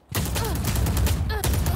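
Rapid VALORANT gunfire, a loud continuous burst of shots with ricochet whines, briefly dipping near the end before the firing resumes.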